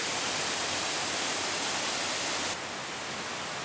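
Waterfalls along Yost Run on the Chuck Keiper Trail pour in a steady, broad roar of rushing water that stays constant and close, with no voices present.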